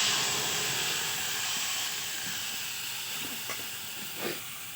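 Spice paste hitting a hot pan with fried potato, plantain and paneer, a loud steady hiss of sizzling that slowly fades, with a couple of faint clinks near the end.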